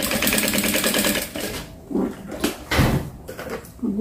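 A sewing machine runs close by in a fast, rhythmic burst of stitching along the border of a dish towel, then stops, followed by a few scattered handling knocks and rustles.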